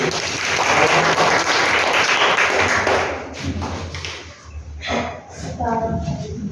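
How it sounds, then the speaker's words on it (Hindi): Schoolchildren in a classroom multiplication lesson clap together for about three seconds, a busy, close burst of hands that then breaks off into scattered taps, thumps and children's voices. "वेरी गुड, तालियां बजाओ"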